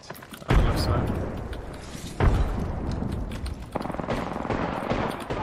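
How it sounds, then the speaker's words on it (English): Booming frag grenade blasts in a shooter video game, two heavy thumps about two seconds apart followed by dense crackling gunfire and rumble, with players talking faintly over the chaos. "Frag grenade set."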